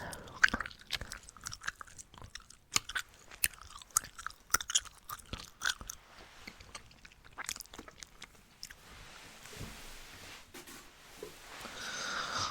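Close, wet chewing of gum with smacking, squishing mouth sounds in quick irregular bursts, fading into softer rustling toward the end.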